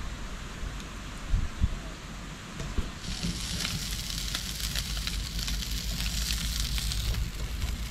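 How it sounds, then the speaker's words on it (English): Sausages sizzle on an outdoor barbecue as a storm approaches, a soft, steady crackling hiss that swells after a few seconds, with a few faint knocks early on and no speech. "I just love the sizzle of the sausage on the barbecue."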